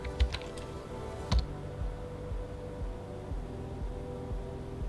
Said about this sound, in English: I'm gonna type clear to clear out everything again